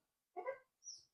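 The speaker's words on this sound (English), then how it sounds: "excuse my dog. She's jealous because she wants to come out and play." A jealous pet dog, kept back during obedience training of a 4-month-old Shih Tzu–Pomeranian mix, gives one short whimpering bark followed by a brief high whine, both near and fairly faint.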